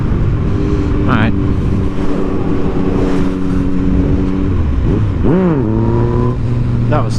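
A motorcycle accelerates hard up through the gears while crossing a bridge, its engine note sweeping upward in rising surges with brief dips between shifts, loud and close, with people talking faintly in the background.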